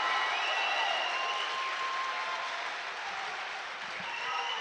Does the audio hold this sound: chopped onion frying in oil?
no